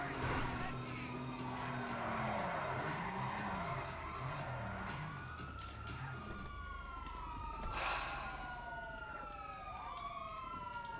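Car driving in the video game GTA, with a steady engine roar, sweeping siren tones and tyre skids running throughout under intermittent talk.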